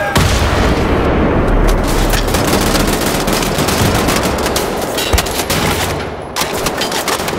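Gunfire and an explosion from the shooter game Wolfenstein: The New Order, with dense rapid automatic fire rattling continuously throughout, a heavy boom underneath, and a sharp impact near the end.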